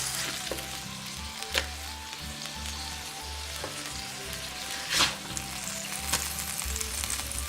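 Smashed burger patties and onions fry on a flat griddle, a constant close sizzle with scattered crackles and a couple of louder spatula scrapes, a low hum underneath, no one speaking.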